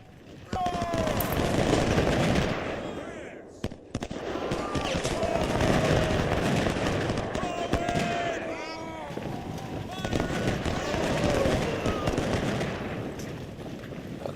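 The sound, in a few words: artillery and musket fire in the video game Ultimate General Civil War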